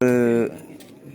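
Pigeons cooing on a rooftop loft where fancy pigeons are kept, a single close, loud, drawn-out coo in the first half second, fading into quieter rooftop ambience afterward.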